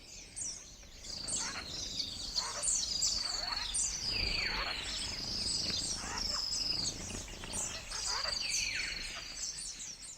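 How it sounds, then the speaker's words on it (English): Dense forest birdsong with many overlapping chirps, whistles and trills from several birds at once, some near and some farther off, rising into a busy chorus over faint insect buzz. "A few minutes later, the forest is full of birdsong."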